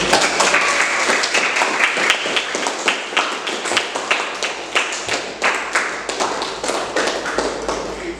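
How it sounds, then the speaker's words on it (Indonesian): Students in a classroom applaud together, a loud, busy patter of many hands clapping with sharp individual taps standing out, steady throughout with no talking. "tepuk tangan dulu"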